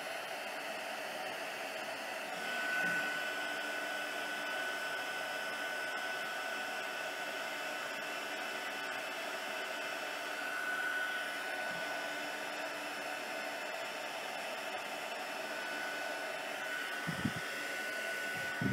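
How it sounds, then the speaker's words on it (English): A heat gun blows steadily while melting embossing powder, a continuous airy whoosh at moderate level that runs unbroken for the whole stretch, with a few faint handling knocks near the end. "now we'll take this and bring in our heat gun and just heat it."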